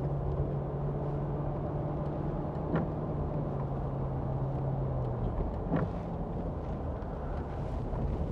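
A 2003 Land Rover Discovery 4.0 V8 automatic driving along a country road, heard from inside as a steady low engine and road drone with a sustained tone that sinks as it shifts, plus a few faint clicks.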